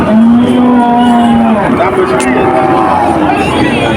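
A cow lets out a loud, long moo close by at a cattle market, followed by a lower, rougher second call, with people talking in the background.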